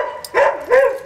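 Sled dogs at a dog sled tour let out two short, close, loud yelping barks with a whiny edge, alone and without talk.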